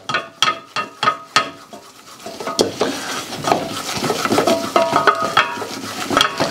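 A flour-and-butter roux for velouté cooking in a pan while a utensil scrapes and stirs it, a run of sharp rhythmic scraping taps giving way to a steady close sizzle with continued stirring.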